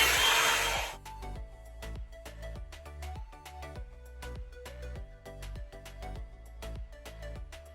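A Revlon One-Step blow dryer drying hair roars loudly with a steady whoosh for about a second, then cuts off and gives way to music.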